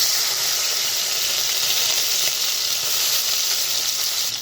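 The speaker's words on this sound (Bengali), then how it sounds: "তেলটা গরম হয়ে গেছে," Loitta dried fish sizzles in hot mustard oil in a wok, a loud, steady, close frying hiss with no break and no talk.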